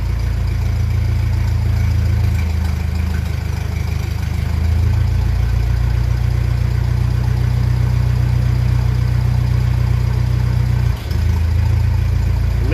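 A 1957 Ferguson 35 TVO tractor engine runs roughly, a loud, close, continuous low rumble with an uneven idle and a brief dip near the end.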